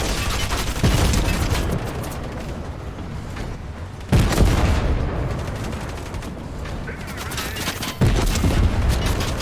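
Sustained gunfire in the Fortnite video game, dense rapid bursts of shots with heavy booming impacts near 4 and 8 seconds, loud and continuous with no talk.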